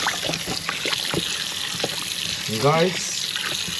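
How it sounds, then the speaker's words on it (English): Water from a tap runs steadily over pork baby back ribs being washed in a sink, a continuous splashing rush while someone speaks briefly over it. "Whenever you're going to prepare any meat, wash your meat."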